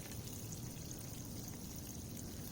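Water pours steadily into a planting hole dug in dry soil, a soft continuous trickle and gurgle, fairly faint and close, with no talking.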